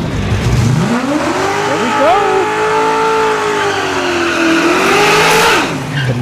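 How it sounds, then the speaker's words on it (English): A nitrous-fed Foxbody Mustang and a Tesla Plaid launch down a drag strip. A loud revving engine climbs and holds a high whine, close to the listener, while an excited announcer talks over it. "Nitrous Foxbody in the right lane versus Andrew with the Tesla Plaid channel"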